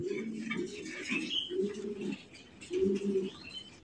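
Pigeons at a pigeon market, including tail-mark pigeons, give low repeated cooing in rhythmic phrases, close by, with faint chirps above.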